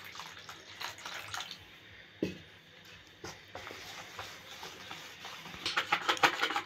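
Water is poured a little at a time into a thick cooking batter, making faint, irregular trickles and splashes that build into a denser patter near the end.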